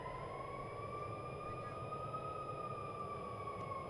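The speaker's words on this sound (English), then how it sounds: "I think the sirens are going off" A steady wailing siren tone holds and slowly shifts pitch over constant broadband crowd noise at a Reds versus Cubs baseball game, loud and continuous throughout.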